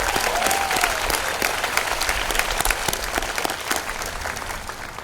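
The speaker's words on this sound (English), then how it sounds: "Can we give the seniors a big round of applause?" A crowd at a school commencement claps steadily for the graduating seniors, a dense, sustained round of applause with scattered louder claps and no speech over it.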